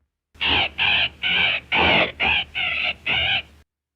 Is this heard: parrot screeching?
yes